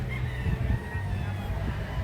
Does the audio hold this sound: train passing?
no